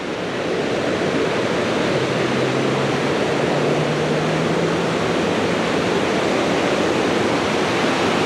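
Creek water runs in a steady, loud, broadband rush, like a small stream spilling over rocks beneath a shaded bank, continuous and close with no voices over it.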